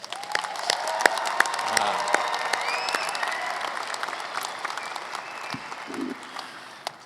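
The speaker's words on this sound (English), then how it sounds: "how about a big round of applause for our graduates today?" Large crowd applauding graduates at a Bellevue University winter commencement ceremony, sustained loud clapping with sharp individual claps standing out, a few faint cheers and brief murmurs mixed in near the end.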